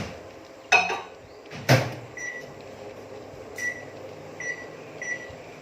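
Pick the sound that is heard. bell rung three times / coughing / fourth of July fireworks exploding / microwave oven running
microwave oven running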